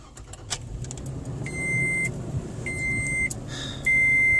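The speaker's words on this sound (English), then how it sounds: "from starting the car up from, you know, complete cold, just turning it over and giving it a start" A Toyota Tacoma starting from cold, with repeated electronic beeps and chimes ringing out over a low engine rumble inside the cab, the tones coming in short steady bursts.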